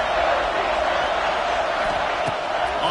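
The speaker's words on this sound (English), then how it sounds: "how nice is it to have the home crowd going absolutely bananas?" Home stadium crowd in College Football 26 roaring continuously, a dense loud wash of cheering that holds steady throughout, with commentary voices mixed underneath.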